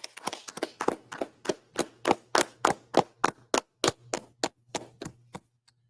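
A small class claps together at a scripture study session, a run of about fifteen sharp, fairly close claps that start quickly and slow to a few final scattered ones before silence.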